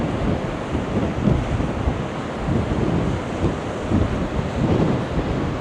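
Strong wind gusts buffet the microphone on a seaside promenade in Blackpool, with surf breaking nearby, making a steady loud rumbling roar that swells and eases in waves, with no voices.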